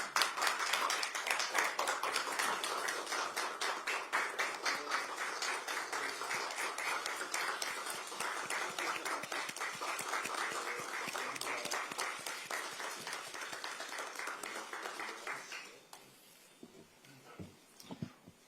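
An audience at a Democratic Party recruitment ceremony welcoming a former vice minister of oceans and fisheries with sustained, dense applause lasting about fifteen seconds before fading to scattered claps.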